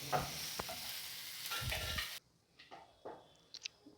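A loud sizzle as water hits a hot pan of potatoes for poori masala, hissing strongly for about two seconds before cutting to quiet bubbling and a few soft clinks.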